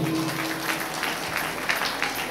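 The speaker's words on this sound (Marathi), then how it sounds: "एकदा तुम्हा सर्वांसाठी जोरदार टाळ्या होतो." Applause from an audience at a Navratri celebration at the Shri Ambabai temple in Hupari, a steady wash of many hands clapping at moderate distance, sustained without a break.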